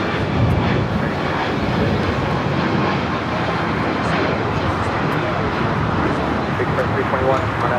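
Heavy airliner taking off from LAX runway 25 right, a steady broadband jet roar at close range that holds loud and constant throughout, with a voice briefly audible.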